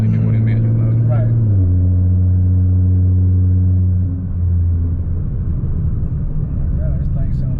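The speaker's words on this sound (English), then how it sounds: "Oh, this thing sounds... It's a race car now." A Nissan GT-R tuned to 800 whp drones loudly from inside the cabin while driving, its steady engine note dropping in pitch at gear changes, with people talking over it.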